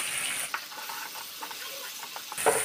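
Green chili paste goes into a sizzling fish curry of katla in a pan, making a soft, crackling fry with light stirring scrapes. The sound is faint and close, and it grows louder in a short burst at the end.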